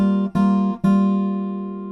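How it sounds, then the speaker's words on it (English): On an acoustic guitar, three strings are plucked together as one chord for the intro, in three quick attacks, the last ringing out and slowly fading; clear and close with no voice. "We're going to be pinching the 4th, 3rd and 2nd strings together 4 times, so it'll sound like this."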